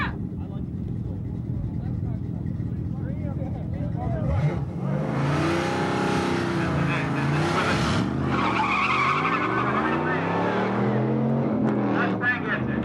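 Drag racing cars, a Mustang among them, launch down the strip in a 2.5 index final, engines revving hard and rising in pitch with tire squeal as they pull away, loud and close under a commentator's talk.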